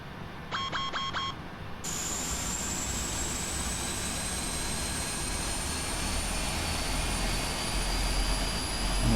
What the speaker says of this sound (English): there we can see the engines firing up